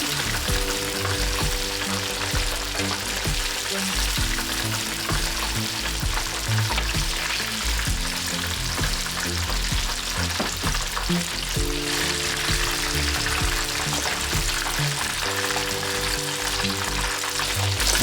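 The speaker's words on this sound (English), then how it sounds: "Now that the fish is finished frying" Continuous loud sizzling of fish frying in hot oil, a dense crackling hiss with occasional stirring sounds.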